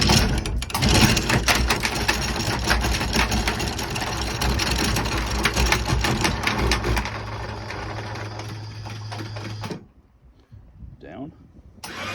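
The anchor windlass on a Regal 26 XO boat, now fitted with a new solenoid, runs with a loud, gritty motor whir and rattling for several seconds. The whir drops in tone, then stops abruptly, leaving near quiet and a faint brief voice.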